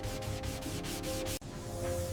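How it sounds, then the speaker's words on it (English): A Rolls-Royce Phantom III body panel is sanded by hand during restoration, giving a steady, close rasping scrape in rhythmic back-and-forth strokes with a brief break near the end. "Hours of sanding."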